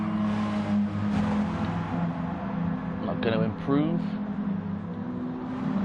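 A hot hatch race car engine in Gran Turismo Sport drones steadily at Big Willow, a sustained mid-level hum with slight revving shifts, heard beneath a commentator's voice talking throughout.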